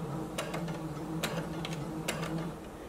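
A sewing machine runs a 3/8-inch seam along the bottom of a skirt pocket with backstitching, giving a steady close mechanical whir with a low motor hum and a few sharp rhythmic clicks from the mechanism.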